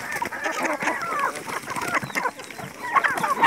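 Chickens cluck busily and continuously while pecking at fermented wheat bran, their overlapping calls close and fairly loud with no talking.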